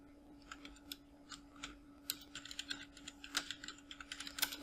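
Quiet, rapid clicking of keys on a computer keyboard while typing a search, irregular taps growing busier, over a faint steady electrical hum.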